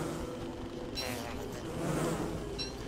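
Bees in the game Don't Starve, a low, steady droning buzz close by, with a brighter whine swelling briefly twice over the hum.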